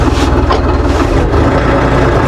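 Tractor engine idling steadily with a dense low-frequency rumble throughout, loud and close, with no talk over it.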